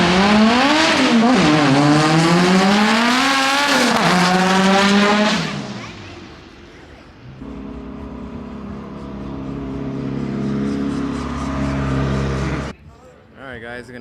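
A fully built hatchback launches hard, its engine revving and climbing loudly through the gears with tire squeal before fading into a lower idle-like drone, then cutting off abruptly.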